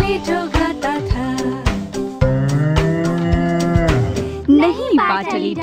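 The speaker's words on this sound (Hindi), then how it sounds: "ये गाय की आवाज है।" A cow's moo set into a Hindi children's nursery rhyme about a plump rooster, a drawn-out lowing call woven through a bright, steady musical backing, loud and up front.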